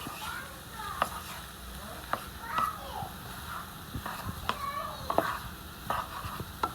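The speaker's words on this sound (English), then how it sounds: "So I'm just going to go ahead and stir them up, scramble them." A spatula keeps stirring and scrambling eggs in a pan, so the close, soft sizzle is broken by frequent short scrapes and taps in an uneven rhythm. Faint murmuring can be heard beneath the cooking.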